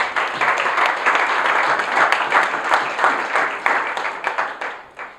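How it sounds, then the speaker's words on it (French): Workshop participants at a MONUSCO session on insecurity in Lingwala commune applaud together, a dense, steady burst of clapping that fades and thins toward the end. "Vous pouvez vous applaudir vous-même."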